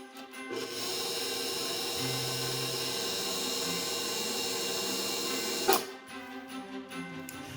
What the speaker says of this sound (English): Now we raise the bowl on a very slow speed. We mix these together.